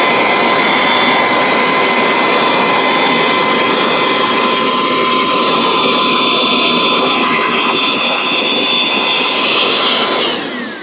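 A Ryobi bucket top vacuum runs on a Harbor Freight bucket with a loud, steady high-pitched whine and rushing air, droning nonstop before it begins to wind down at the very end.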